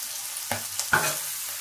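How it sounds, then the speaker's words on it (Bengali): Onions frying in a wok with a soft sizzle and two quick spatula scrapes against the metal, close and brief, with no talking. "পেঁয়াজটা ভালো করে ভেজে নেবো।"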